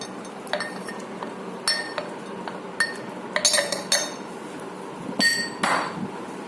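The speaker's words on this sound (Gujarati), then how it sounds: "જ્યાં સુધી એનો એક જ્યુસ ના નીકળે ત્યાં સુધી આપણે એને મડલ કરવાનું છે" Plums being muddled in a glass for aalu bukhara shikanji: repeated sharp clinks and knocks of a muddler against glass in irregular bursts, some in quick clusters, close and fairly loud with no talking.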